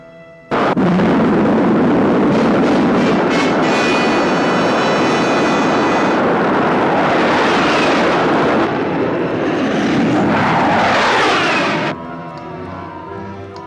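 Rocket engines roar at launch in a 1958 science fiction film, a loud sustained broadband blast that starts abruptly and holds for about eleven seconds before cutting off to a quieter rumble.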